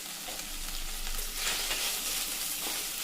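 Onion pieces frying in ghee in a pan, a close, steady, bright sizzle with faint crackles, continuous and alone.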